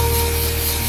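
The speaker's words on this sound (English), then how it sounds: "First, I'm gonna spray my hair with some heat protectant." Heat protectant is sprayed onto hair in one short, steady burst of airy hiss that lasts about a second and is heard alone.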